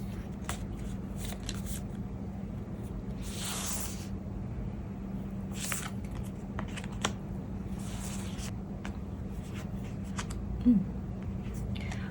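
Tarot cards being shuffled by hand before an advice card is drawn, making a steady soft riffling and sliding that runs the whole time, close and quiet, with a few sharper taps.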